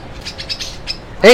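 Caged birds at a narrow-lane street market in Manila let out a loud, close burst of chirps near the end, after a stretch of chatter and market murmur.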